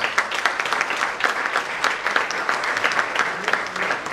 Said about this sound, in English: Could you please have a huge round of applause?